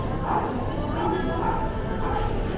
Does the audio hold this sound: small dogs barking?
yes